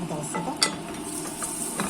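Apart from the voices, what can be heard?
onion sautéing in oil in a pot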